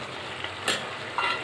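Chicken curry with chili powder and plenty of oil being stirred in a pot, a soft steady sizzle with two brief louder scraping sweeps of the spoon, no talking.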